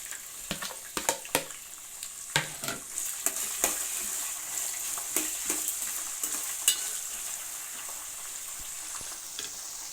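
Onion pieces frying in a pan with green chillies, a soft continuous sizzle punctuated by frequent light stirring clicks and scrapes.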